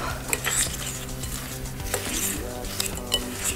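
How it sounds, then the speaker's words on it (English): Crumble topping with egg whites and vanilla being mixed in a bowl for an apple coconut crisp, steady close scraping and clinking of a utensil against the bowl in repeated strokes. "Now you're going to mix that all up."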